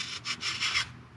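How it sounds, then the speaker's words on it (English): A carbide scraper scrapes old gasket material off a Jeep, Dodge or Chrysler transmission surface in several short rasping strokes, close and alone. "And this Carbide scraper just makes light work of anything."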